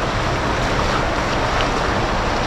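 Strong river current rushes steadily on a Philippine river trip, a dense, close wash of water with a low rumble and some wind buffeting, continuous throughout with no voices.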